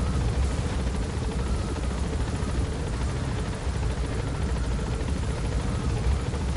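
A helicopter in the Metal Gear Solid V video game climbs with a loud, continuous rotor rumble and dense low thumping that stays steady throughout, with no voices.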